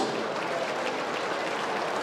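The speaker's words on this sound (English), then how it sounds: "Another round of applause, please." A brief patch of steady clapping from an event audience honouring Italian trade sponsors, continuous and moderately loud with no talking.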